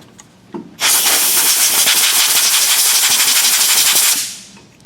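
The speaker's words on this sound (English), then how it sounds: "I'm going to take some starting fluid or ether" Aerosol can of starting fluid (ether) sprayed onto a transfer case drain plug on a 2018 Duramax, a loud, close, sustained hiss lasting about three seconds before tapering off, with small clicks and handling noises before it.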